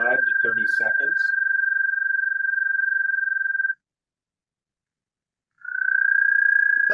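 A high-pitched frog trill from a Kentucky spring chorus, a steady sustained tone that cuts off and resumes after a short gap, with someone speaking over its start.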